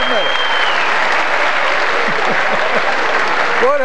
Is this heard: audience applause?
yes